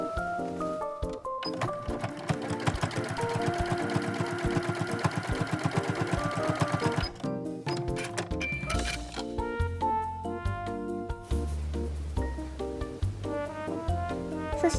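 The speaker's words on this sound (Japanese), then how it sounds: "そしてミシンで この端を縫っておきます。" A sewing machine stitches along the edge of a cloth New Year money pouch, a fast, steady run of stitching in the first half that continues under background music.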